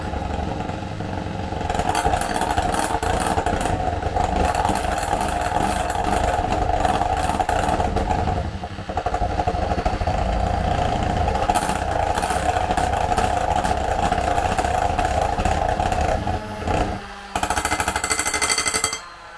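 An electric hand mixer beats pudding mix with milk, its steady motor whine running loud and continuous for nearly the whole stretch, with a brief dip near the end.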